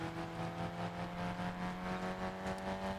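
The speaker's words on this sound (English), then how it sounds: "sounds like my car's struggling." A struggling car engine in the Warzone video game drones steadily with a low, even hum that holds for the whole stretch, with no talk over it.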